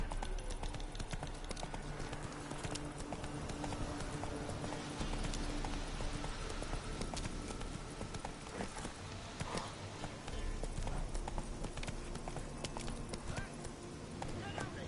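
Horse hooves clip-clop at a steady trotting rhythm in the video game The Witcher 3, loud and continuous under in-game character dialogue.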